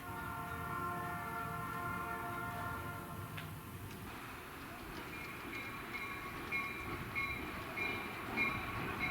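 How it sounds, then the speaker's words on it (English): A passenger train pulled by a diesel locomotive, a Jacumba RS-4TC built for the United States Army, rumbles past with steady low engine noise and rail clatter, a horn sounding briefly in the distance, no voices. "Pulling the daily passenger trains is a quite unique locomotive, a Jacumba RS-4TC, built for the United States Army."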